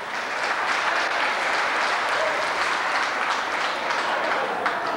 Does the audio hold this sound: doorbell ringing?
no